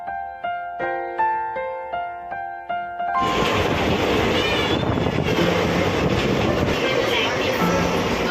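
A passenger train on a family trip to Tirupati runs with a continuous rumbling roar that comes in after a few seconds of plucked musical notes, staying loud and steady to the end.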